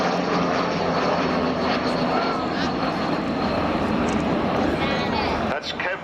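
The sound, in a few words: Avro Vulcan XH558 flying slowly with two small aircraft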